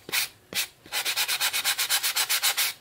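Sandpaper rubbed over a varnished decoupage napkin coaster: two separate strokes, then a fast, steady run of about a dozen rhythmic back-and-forth scrapes, close and fairly loud, with no voices.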